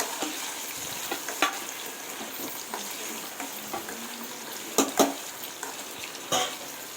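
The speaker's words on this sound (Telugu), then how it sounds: "నేను నెయ్యిలో ఫ్రై చేస్తున్నాను." Paneer cubes, half a kilo, frying in ghee in a pan make a steady broadband sizzle, broken by a few sharp scrapes and clinks of a spatula against the pan, near and moderately loud.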